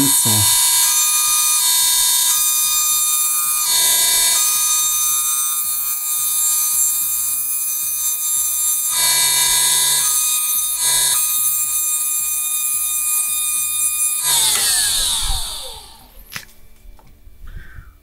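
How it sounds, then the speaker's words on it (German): An Allett Liberty cordless lawn mower with a tuned drive runs at its lowest speed, a loud steady electric motor whine with pulsing, stepped tones that winds down and fades after about fifteen seconds. "Ich mache jetzt mal den Mäher an und lasse ihn auf der niedrigsten Stufe mal laufen, ganz langsam"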